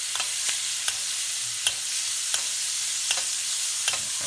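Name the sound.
steak sizzling in pan with butter while basting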